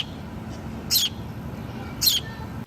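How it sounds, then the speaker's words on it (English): A sparrow gives two bright, brief chirps about a second apart, clear and fairly close, over a soft steady background hiss with no voices. "it is sparrow and it makes chirping sound"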